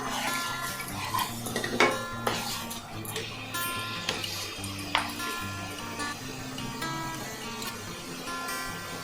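A metal spoon stirs chicken bharta in a pan, scraping and clinking against the metal in uneven strokes with a few sharp rings, close and moderately quiet, with no one speaking over it.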